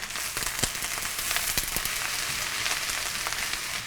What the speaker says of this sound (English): Okay, I'm gonna give this a quick stir.